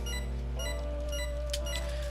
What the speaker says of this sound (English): Oh, so that's the beeping I'm hearing.